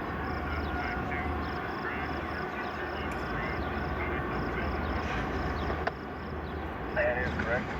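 An eastbound manifest freight train passing the depot on the number 2 main, a steady low rumble and rolling roar holding evenly throughout, with a brief squeal near the end.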